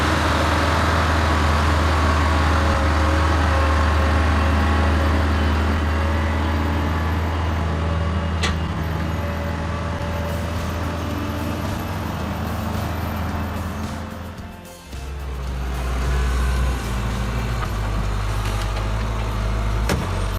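A convoy of logging trucks climbs a hill, with loud, sustained diesel engine roar and deep low rumble. It dips briefly near the end before surging back, heavier and lower.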